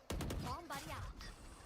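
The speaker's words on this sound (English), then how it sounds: "As a barrage of bullets surround him and destroy him." A burst of rapid gunfire in the video game Valorant crackles in a quick cluster of sharp shots, partly under excited voices and crowd noise.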